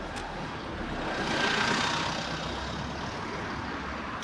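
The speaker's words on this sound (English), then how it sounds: "There's some buses coming that way now." Heavy vehicles, likely buses, roll past on a city street at night, a broad steady traffic roar that swells to a peak midway and then eases off, with no talking.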